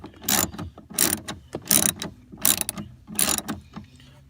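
A 10mm ratchet loosens door hinge bolts on a GM truck in five quick bursts of rapid clicking, each about half a second long and evenly spaced, close and clear, with no talking.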